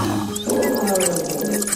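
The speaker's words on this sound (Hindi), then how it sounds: "गुस्से में आकर शेर जोर जोर से दहाड़ने लगा" A cartoon lion, caught in hunters' net by a riverbank, roars angrily in a sustained, loud growl over dense background music and effects, nearby and continuous for the whole stretch.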